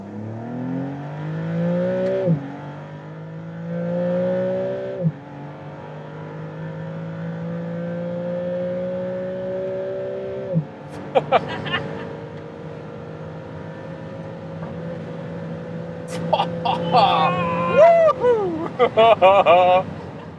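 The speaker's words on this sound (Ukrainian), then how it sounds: "Мазераті МС П'юра. Час виїхати на німецький автобан." A Maserati MCPura V6 sports car accelerates hard on a German autobahn, engine climbing through repeated rising sweeps with gear changes, loud and close, with talk toward the end.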